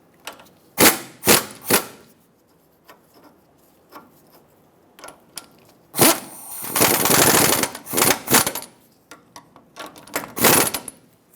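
An impact wrench or ratchet tightens the sleeve bolts on a 2003-2009 Dodge Ram 2500 drag link: close, loud bursts of rapid rattling hammering, with short sharp clicks and pauses between.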